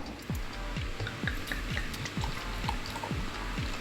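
Red Stripe light watermelon beer glugging as it is poured into a glass, rhythmic gurgles repeating steadily over a fizzy, bubbling hiss, close and clear.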